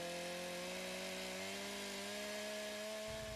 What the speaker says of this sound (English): See Steve coming back with the chainsaw, and we'll cut this up.